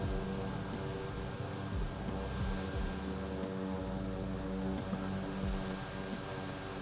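Kodiak 100 propeller aircraft in Microsoft Flight Simulator 2020, props at maximum: a steady, droning engine hum with a constant low rumble and tonal whine, unbroken throughout and with no talk.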